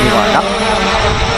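A Hubsan Zino 2 drone is landing close by under manual stick control, its propellers giving a steady, loud whirring drone that fills the whole clip while someone talks over it.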